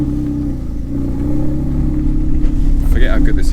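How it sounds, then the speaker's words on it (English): Porsche 996 Carrera 4S in Speed Yellow driving, its flat-six exhaust a steady low rumble building slightly toward the end, close and loud inside the car, with a voice briefly over the top near the end. "Forget how good this exhaust sounds as well"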